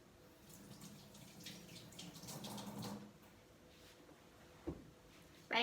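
Tap water runs steadily as hands are washed under it for about three seconds, then it stops, leaving a quiet room with a couple of small knocks.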